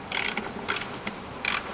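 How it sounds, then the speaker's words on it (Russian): A ratchet wrench with a 10 mm socket clicks in short bursts while undoing the cover bolts on a 2000 Toyota Noah 3S-FE engine during a timing belt replacement, three quick close ratcheting runs with pauses between them. "Откручиваю 4 болта"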